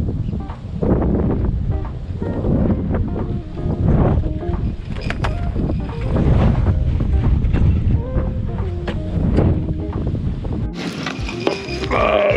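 Strong wind buffets the microphone on a fishing boat tucked behind a barge, a loud continuous roar with gusty rumbling and water sounds, briefly shifting character near the end.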